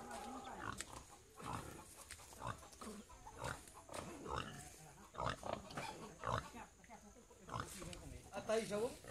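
Pigs on a small farm grunt and oink in short repeated bursts close by, mixed with other farm animals and frequent talking throughout.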